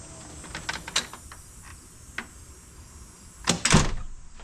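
A screen door with a touch-and-hold closer swings and shuts, with a few light clicks and taps, then a louder rattling clack as the door closes and latches, close by with no talk.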